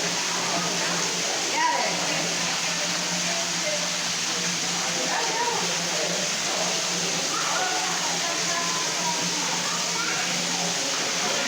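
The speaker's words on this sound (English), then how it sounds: "Look at that waterfall." Steady broadband rush of a waterfall falling inside DeSoto Caverns, echoing in the enclosed cave, constant and fairly loud, with faint voices underneath.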